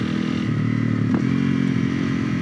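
A Honda CRF 250L motorcycle engine hums steadily at low revs close by, a constant droning rumble with faint rattling and no speech.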